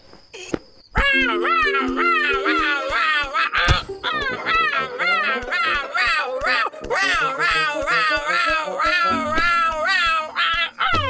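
Frightened cartoon cat trapped inside a bundle lets out a long run of rapid, wavering meows, one after another for several seconds, loud and close, with a steady high insect-like buzz behind it.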